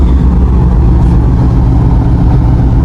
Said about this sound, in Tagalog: Maandar na po yung barko